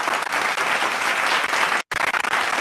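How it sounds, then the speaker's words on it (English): An audience at a virtual school graduation claps hands in a steady, dense burst of applause, briefly cut by a moment of silence before the clapping resumes. "Clap your hands, everybody."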